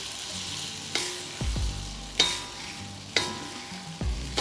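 Seafood curry (Thai pad talay pong karee) thickening in a wok, with a utensil scraping the bottom in sharp strokes about every second over a low sizzle, close and alone.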